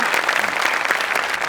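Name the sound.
clapping for a performer on a comedy show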